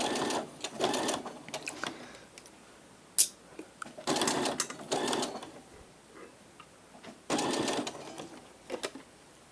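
Sewing machine stitching a fine seam on fabric for a Frosch cosplay costume: quiet bursts of rapid mechanical chatter separated by pauses, close by, with no talking.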